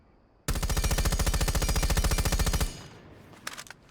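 A fully automatic weapon fitted with a muzzle brake fires in Rainbow Six Siege, one sustained loud burst of rapid evenly spaced shots lasting about two seconds, followed by a few faint clicks, with no talk.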